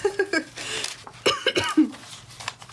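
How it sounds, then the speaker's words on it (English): A few short, sharp coughs and throat-clearing bursts, close and fairly quiet, spaced irregularly with brief pauses between them. "every time I start the camera, I start coughing."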